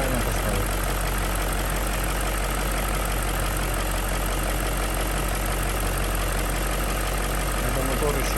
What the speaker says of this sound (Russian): Это мотор еще не прогрет.